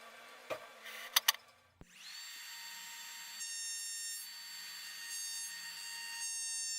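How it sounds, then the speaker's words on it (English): A hand router shaping wooden feet for planter boxes: a few sharp clicks and knocks, then the motor spins up into a steady, close, high-pitched whine that holds for several seconds. "I've used my router to make these feet the exact shape of the legs"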